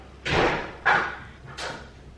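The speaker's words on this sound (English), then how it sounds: "shut the door." A household door swings shut with a few dull thuds, three broad muffled bumps spread over about two seconds, fairly close and with no talking over them.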